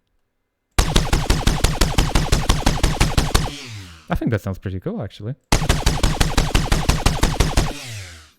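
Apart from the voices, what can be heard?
layered gunshot weapon sound effect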